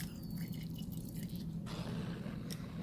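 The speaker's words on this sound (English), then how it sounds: "Let me clean it up really nicely with DI water." Lab glassware is rinsed with deionized water, giving quiet dripping and trickling with a few small splashes and a low hum underneath, without speech.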